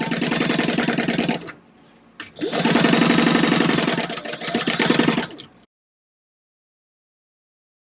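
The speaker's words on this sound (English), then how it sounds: "I've got a 3-stitch length and I'm just going to sew at 1/4 of an inch" Sewing machine stitching the seams of a popcorn bucket bag at a 3 stitch length and quarter-inch seam, running in two steady bursts separated by a short pause, then stopping into silence.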